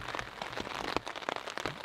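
Steady, solid rain patters on a surface at night with no wind, a dense hiss of close drops with scattered louder taps.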